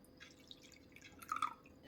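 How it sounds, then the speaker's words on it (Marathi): Lemon juice and water trickle into a bowl for making paneer, heard as a few faint, close drips and small splashes late in an otherwise quiet moment. "आता आपण लिंबाचा रस एका बाउलमध्ये टाकू अर्धा अर्ध्या लिंबाचा रस आहे आणि अर्धा कप पाणी"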